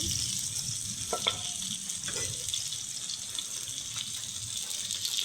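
Onion, green chilli and potato frying together in oil in a pan, a steady close sizzle with a couple of brief scraping knocks early on.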